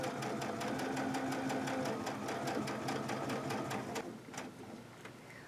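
A sewing machine stitches a zipper seam at a steady fast pace, its needle ticking in an even rapid rhythm, close and moderately loud before easing off near the end.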